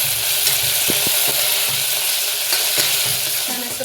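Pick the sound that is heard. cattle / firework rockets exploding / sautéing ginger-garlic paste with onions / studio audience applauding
sautéing ginger-garlic paste with onions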